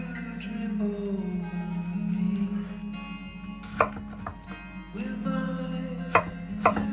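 A knife chopping pineapple into strips on a board for a sweet and sour stir-fry, a close, steady run of cuts with a few sharp knocks near the end and no talk.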